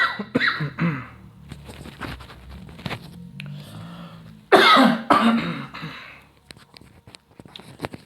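A man coughs and clears his throat several times in sharp, uneven bursts, close and fairly loud, with a louder coughing fit midway and quieter rustling in between.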